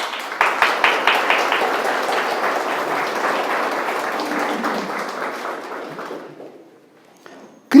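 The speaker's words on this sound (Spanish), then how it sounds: "Dale un aplauso a Dios." A church congregation claps together, starting with a few rhythmic, evenly spaced bursts and then settling into sustained mixed applause that gradually fades away. A sharp thump sounds at the very end.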